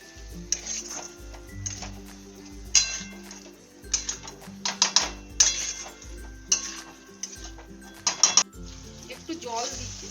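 A spoon scrapes and clatters against a metal pan while fried potatoes and eggs are stirred for egg biryani, in repeated uneven strokes with sharp clinks and a faint sizzle underneath.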